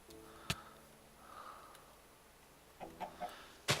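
A chicken clucks in the Minecraft video game, a short burst of three quick clucks near the end, with a couple of sharp clicks and a soft hiss earlier; no talking.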